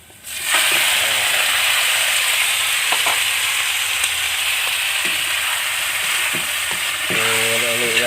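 Capiz shellfish sauté in a hot pan with a loud, steady sizzling hiss that starts abruptly and holds throughout. Occasional faint clinks and stirring scrapes break through, and a brief tonal squeal comes near the end, with no talking.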